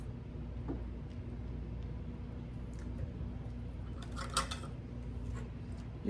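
Small herb scissors snip fresh herbs over a potato salad in a home kitchen, producing a few faint, soft cuts against a steady low hum of background noise.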